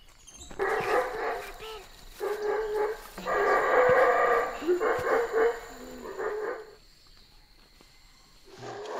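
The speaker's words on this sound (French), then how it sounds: "On entend les singes araignées et les singes hurleurs" Spider monkeys and howler monkeys calling in Guatemala, loud repeated bursts of throaty roaring and barking calls in forest, rising and falling over several seconds.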